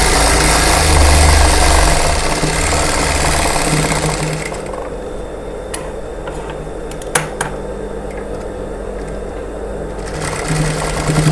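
A sewing machine stitches a blouse, running in a dense, steady mechanical whirr for about four seconds. It then stops, and a quieter hum with a few sharp clicks and taps follows.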